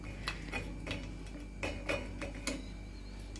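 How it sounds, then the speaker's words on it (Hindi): Little water left in a cooking pot crackles and pops on the heat, scattered sharp ticks and clinks at an irregular pace, quiet and close. "शायद ना बर्तन में थोड़ा सा पानी होगा, इसलिए चटक पटक सी हो रही है"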